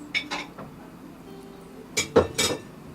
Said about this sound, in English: Stir that a little bit.